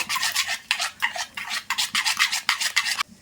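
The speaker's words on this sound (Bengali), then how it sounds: "এরপর ভালো করে সব কিছু কিন্তু মিশিয়ে নেব" Beaten egg and shredded cabbage being stirred together in a bowl, a steady run of soft wet scraping strokes repeated about every half second, close and alone with no talk.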